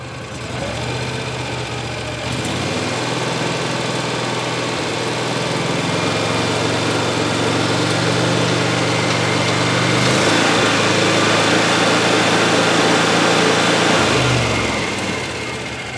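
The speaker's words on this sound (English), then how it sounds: "Go ahead and give her a little fuel. Increase the RPMs a little." A Mahindra Retriever 750 engine runs loud and close, climbing slightly in revs after a couple of seconds, holding a steady, buzzing drone, then easing back down near the end.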